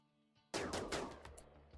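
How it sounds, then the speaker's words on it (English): A sudden loud burst of gunfire from the video game RimWorld, set on sea ice, cracks out close and sharp with a couple of rapid follow-up shots trailing off. "Gunshot."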